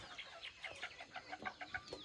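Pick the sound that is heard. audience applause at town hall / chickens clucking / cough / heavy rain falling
chickens clucking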